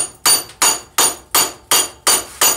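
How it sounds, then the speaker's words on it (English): Hammer blows forge a vice ball screw in a smithy, seven sharp, loud, evenly spaced strikes in quick succession, each ringing briefly, close and with no voices. "When you're hammering against yourself, you're absorbing the vibration of that hammer."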